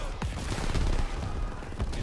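Dense battlefield gunfire from the Call of Duty WWII D-Day campaign, with an MG42 machine gun firing from a hill: a steady, loud fusillade of overlapping shots and booms filling the whole stretch.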